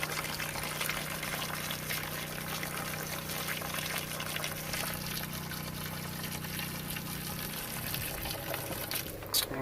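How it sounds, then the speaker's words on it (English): Cold water running steadily through the plumbing of an Arctic Fox truck camper during dewinterizing, a continuous hissing flow with a low pump hum underneath, close and unchanging for several seconds before a small shift near the end. "The water is flowing now, and I've closed up the hot water and I'm just running through the cold water right now."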